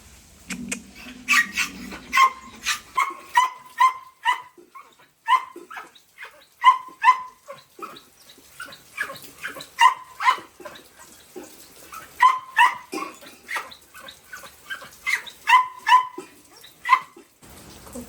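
A dog barks over and over in short, sharp bursts, close and fairly loud, with a few higher yips mixed in and brief pauses between barks.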